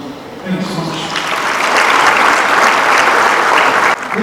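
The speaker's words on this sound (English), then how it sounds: "Big round of applause." Audience applause at a charity gala in Chicago, swelling after a short speech into sustained, dense clapping that holds steady before a brief dip near the end.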